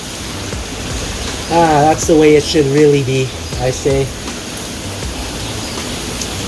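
Rain falls into a hot spring pool at Beitou Hot Springs, a steady broadband hiss running the whole time while someone speaks briefly over it.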